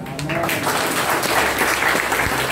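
A church congregation at a French-language worship service applauds, with dense, steady clapping filling the whole short moment while voices call out underneath.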